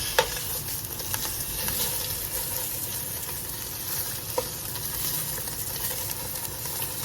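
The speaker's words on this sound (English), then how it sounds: "this is how you have to like sear it and sear it until you get that color" Beef ribs sear in a hot pan with a continuous loud sizzle and occasional sharp crackles and pops, with no voices.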